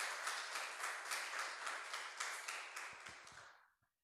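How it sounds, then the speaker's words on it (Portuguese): A church congregation claps in praise to the Lord, a fairly quiet, even wash of many hands with slight pulsing that fades out near the end. "as palmas louvem ao Senhor"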